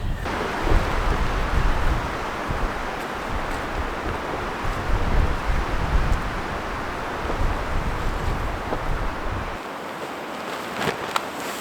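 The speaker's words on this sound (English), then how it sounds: "It's starting to get extremely windy out." Strong wind at a winter campsite buffets the microphone in a loud, continuous roar with low rumbling gusts, easing slightly near the end.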